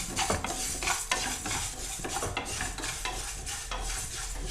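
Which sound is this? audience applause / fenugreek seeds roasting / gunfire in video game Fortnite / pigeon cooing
fenugreek seeds roasting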